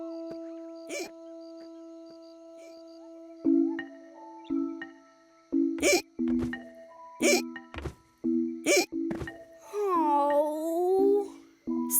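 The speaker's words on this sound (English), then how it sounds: "Sounds like you've got hiccups" A cartoon lion with hiccups gives a few sharp, separate hiccup squeaks spaced across a chiming, bouncy musical backing, ending in a longer wobbling vocal cry.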